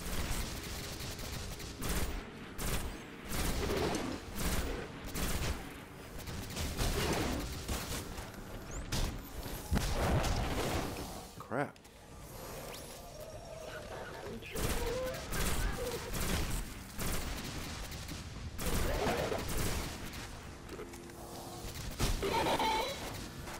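Gunfire from Destiny on Venus, with dense, repeated volleys of shots crackling almost nonstop and only brief pauses between bursts.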